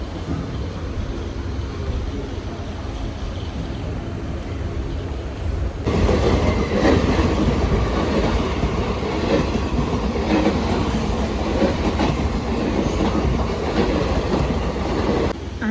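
A train rumbles past close by at Puthukkad, clattering wheels growing louder after a steady background hum, with rhythmic clickety-clack and some faint squealing.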